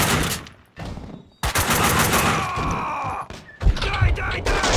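Gunfire in the Max Payne 2 video game, with bursts of loud shots and heavy thuds. Dense, chaotic, near, broken by short gaps, with a voice groaning or shouting among the blasts.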